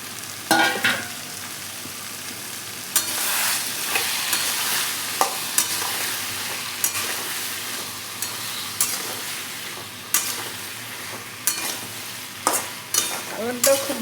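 Cut cauliflower pieces frying in a pan with potatoes for a simple vegetarian sabji, a continuous close sizzle broken by repeated scraping stirs and clanks of a spoon against the pan, no talking.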